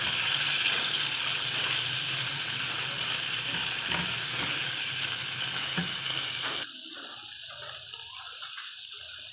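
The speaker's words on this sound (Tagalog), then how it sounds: "Ipapry ko muna yung isasawag kong karne sa pinakbet." Meat frying in a pan for pinakbet, a steady close hiss and sizzle with occasional stirring clatter; partway through the low end drops away, leaving a thinner continuous sizzle.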